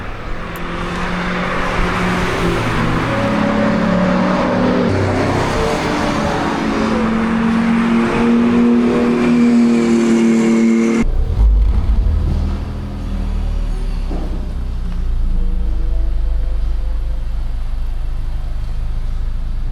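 Honda Civic Type R FL5 lapping a wet race track, engine droning loudly and rising through the revs as it pulls through gears, then dropping to a low rumble after a shift.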